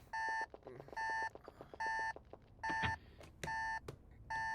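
An alarm clock beeping in the game Yume 2kki, floating city area; loud, regular bursts of bright electronic beeps repeating about once a second, with faint clicks in the gaps.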